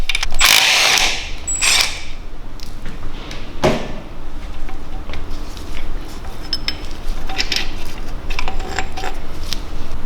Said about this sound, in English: I'm going to start by removing this gear. On the front we have a nut.